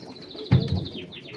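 Soft, low cooing of Arabian crested pigeons with a fuller coo burst partway through, set against faint background chirps.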